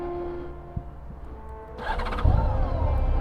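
A motorcycle engine starts partway through on a highway tour stop in hot weather, firing up with a sudden burst and settling into a loud, steady idle close by after a quiet stretch with a faint hum.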